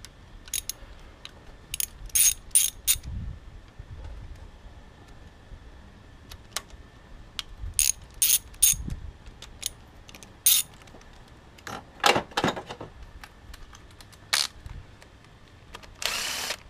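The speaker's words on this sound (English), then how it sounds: "so I'm gonna break them loose first with a ratchet" A ratchet breaks loose 10 mm bolts on the engine of a 2001 Volvo S60 2.4 non-turbo, producing intermittent bursts of sharp, close clicking with quiet gaps between them, with no speech.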